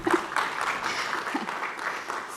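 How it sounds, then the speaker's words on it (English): Audience applause at an Ethiopia investment summit marking the launch of the Ethiopian Securities Exchange: a dense, steady wash of many hands clapping at once, moderately loud and continuous for about two seconds. "So let's clap for this."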